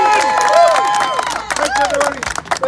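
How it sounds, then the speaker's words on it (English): At a carbon tax rally in Richmond, a crowd claps and cheers for politician John Rustad, a sustained burst of applause mixed with bright tonal whistles and chatter that thins out toward the end. "a round of applause for John Rustad"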